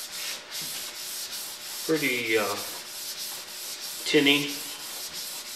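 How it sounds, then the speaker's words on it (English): Primer is dry sanded by hand on a Chevy Cruze body panel in quick rhythmic rubbing strokes, a close scratchy sound. A voice speaks briefly twice over the sanding. "I am dry sanding it."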